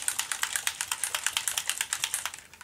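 A distress ink bottle shaken hard so the mixing ball inside rattles in a quick, even series of light clicking taps, close and fairly quiet, with no talking.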